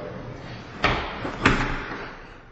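A door opening into a casita at a gated-community home, giving two distinct thuds about half a second apart, close and moderately loud, followed by a quiet room tone.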